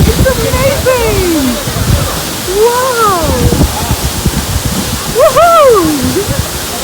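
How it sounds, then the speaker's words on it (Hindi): The massive Kanchenjunga waterfall near Pelling, Sikkim, gives off a constant loud broadband roar, while excited voices call out and exclaim over the rushing water. "Massive Kanchenjunga waterfall."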